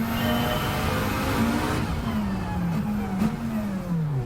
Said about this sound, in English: A lot of turbo whistle